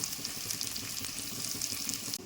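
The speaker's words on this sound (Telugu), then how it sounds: "ఉల్లిపాయలు బాగా వేడాల్సిన అవసరం లేదు కొద్దిగా కలర్ మారితే సరిపోతుంది" Chopped onions, green chillies and curry leaves sizzle and crackle steadily in a hot pan for a bottle gourd curry, heard close and continuously with no voices.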